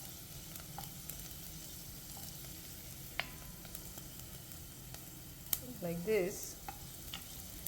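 Whole garlic cloves fry quietly in hot oil with a faint, steady sizzle, rising into a brief louder crackle near the end; a voice speaks briefly.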